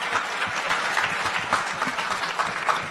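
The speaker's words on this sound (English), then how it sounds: "Go ahead, you can clap." Audience at a hip hop conference breaks into steady, dense applause, many hands clapping together in a sustained, fairly loud wash with no talking over it.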